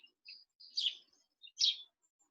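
Faint, distant bird chirps come in a few short bursts of high twittering, separated by silence, with no other sound around them.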